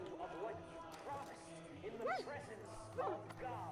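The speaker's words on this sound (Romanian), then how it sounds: "Ok, e un câine drăguț." A dog in Far Cry 5 yips and barks in short excited bursts, several quick rising calls over a low game background with faint movement sounds.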